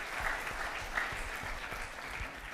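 Applause from an audience at a women-owned business pitch competition, a steady wash of many hands clapping that holds at moderate loudness across the whole stretch without fading.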